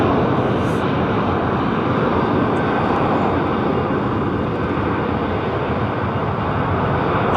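Airplane taking off at London Heathrow Airport, a loud continuous broadband jet engine roar that stays steady and close throughout, no voices.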